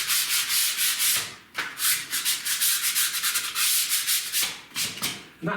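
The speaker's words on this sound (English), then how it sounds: "on these internal corners, sometimes you do get some little bits of plaster down these edges that do just need a light rub." Sandpaper lightly rubbed over fresh plaster in internal wall corners, close and loud, in repeated rhythmic back-and-forth strokes with short pauses between passes.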